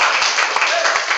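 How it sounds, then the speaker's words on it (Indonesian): A class of students applauding in an Indonesian classroom: a dense, loud burst of clapping that runs without a break, with sharper claps standing out. "Oke, terima kasih, tepuk tangan."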